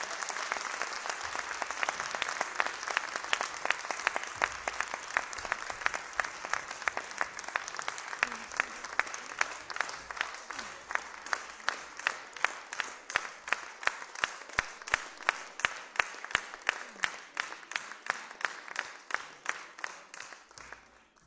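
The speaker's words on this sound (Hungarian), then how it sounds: "Tapsoljuk meg őket!" An audience at a school gala applauds a ballet group with sustained, even clapping that stays dense for a long stretch before thinning and fading at the end.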